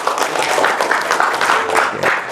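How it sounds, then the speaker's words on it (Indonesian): Seminar attendees at a health department training session clap together in a brisk, rhythmic burst of applause that fills the short moment without talk. "Tepuk tangan yang berhebat Bapak Ibu dong."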